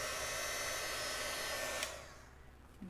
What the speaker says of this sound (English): And now I'm going to hit it with the heat tool one more time